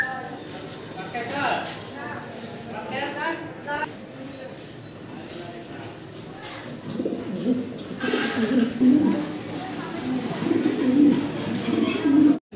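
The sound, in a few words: pigeons cooing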